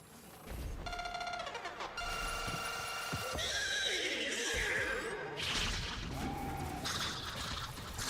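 A horse in the video game Destiny 2 whinnies loudly several times, with hoof clip-clops, a crash and game sound effects around it, and nobody speaking.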